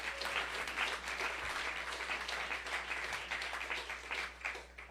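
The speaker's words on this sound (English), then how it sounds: "you can clap for that" An audience claps at a Michigan state budget signing with Governor Gretchen Whitmer, a steady, even wash of many hands that sounds fairly distant and soft for a few seconds.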